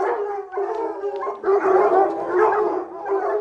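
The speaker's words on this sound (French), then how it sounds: "s'occuper des 135 chiens de meute" A kennel of pack hounds at an abbey bays and howls together in overlapping, continuous waves of long wavering cries mixed with barks, close and loud.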